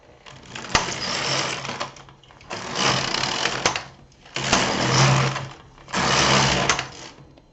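A domestic knitting machine carriage, fitted with a pattern reader, is pushed across the needle bed four times, each pass a loud whirring, clattering sweep lasting about a second with short pauses between.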